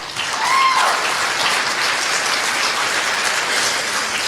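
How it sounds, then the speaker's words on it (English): A crowd at a community volunteer event gives a sustained round of applause, steady and dense throughout, with a brief faint whistle-like tone early on. "Give these guys a round of applause."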